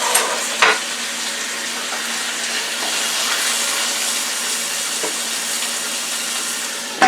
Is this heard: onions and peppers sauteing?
yes